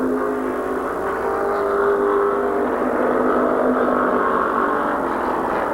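Race cars on the final lap at Midvale Speedway, a steady loud roar of several engines circling the track with a sustained droning whine and no break in the noise.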